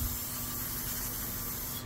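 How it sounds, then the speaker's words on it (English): Aerosol brake cleaner sprayed onto rear brake rotors on a 2017-2022 Jeep, a loud continuous hiss lasting about two seconds close to the mic. "So I'm gonna spray those with some brake cleaner too."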